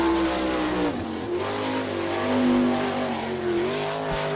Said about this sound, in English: Jason Dukes qualifying right now in car number 3 from Findlay